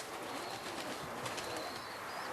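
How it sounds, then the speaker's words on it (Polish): Racing pigeons arriving back at a Polish loft, with faint soft cooing and light bird calls over a steady outdoor background hiss, distant and low in level. "zobaczmy trzy kolejne gołębie nadleciały"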